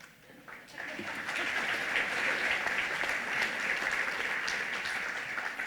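Audience applause at a medical school white coat ceremony, starting softly then swelling into steady, full clapping from a large crowd that continues evenly to the end.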